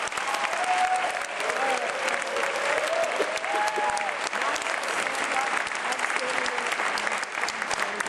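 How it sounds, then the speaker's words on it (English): Loud, sustained applause from a large seminar audience, continuous and dense for about eight seconds, with faint cheering or voices woven through it. "Give yourself a round of applause."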